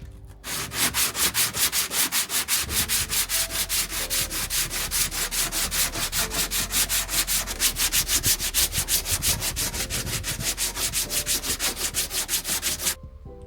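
Body filler on a car panel being sanded by hand with 80 grit, a loud close rasping back-and-forth stroke repeating steadily and quickly for over twelve seconds, stopping abruptly near the end.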